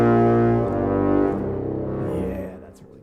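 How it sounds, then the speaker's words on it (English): An orchestral sample blends contrabass and bass clarinets with tuba and euphonium and contrabassoon into one deep, sustained brass-and-reed chord that swells, holds, then fades out, rich and foghorn-like with no voices. "Let's do contrabass clarinets mixed with bass clarinets."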